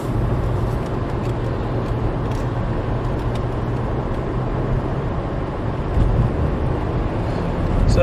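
Car driving along a road in the Luxembourg countryside, a steady broadband engine and tyre rumble with wind buffeting the microphone, continuous and close throughout, swelling slightly toward the end.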